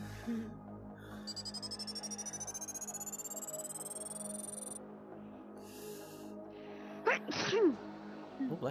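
A single sneeze, sharp and close, bursts out near the end of a quiet stretch of video game ambience with a faint ticking tone earlier on.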